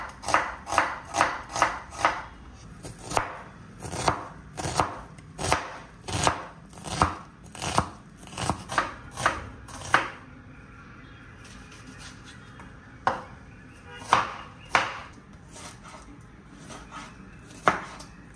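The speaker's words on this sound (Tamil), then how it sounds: "நீங்கள் நறுக்கிற வெங்காயம் தக்காளி பொடியாக இருக்கட்டும்." A knife finely chops onion and tomato on a board, with quick runs of sharp, close taps that break into slower, separate strokes after a short pause.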